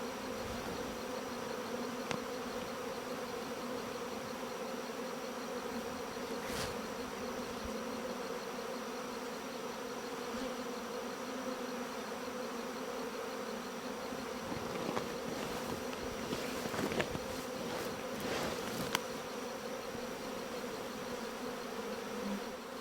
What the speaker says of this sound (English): being surrounded by this hum, it's almost like a noise machine or something